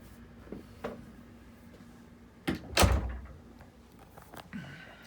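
Closet door in a house being opened, with a few soft knocks and a louder thump and rattle in the middle, faint and close in a quiet room.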